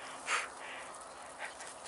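Staffordshire terrier puppy, a young male, panting with soft breathy bursts over steady background hiss, two brief louder puffs standing out at close range.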